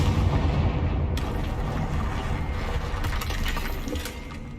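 A Confringo fire spell blasts in Hogwarts Legacy, a loud booming burst with crackling, shattering debris that rumbles on and slowly fades over a few seconds, no voices.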